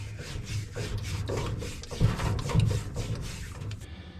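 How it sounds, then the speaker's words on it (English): Scotch-Brite pad scrubbing the valve seat area of a Ford 351 Windsor cylinder head from a 1986 Ford F250, a close, steady rhythmic rasp of repeated back-and-forth strokes with no talking. "Nice thing about this Scotch-Brite pad thing, We're not going to damage that seat area."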